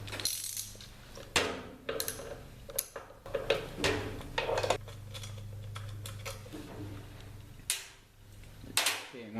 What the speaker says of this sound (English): you just take these 4 screws out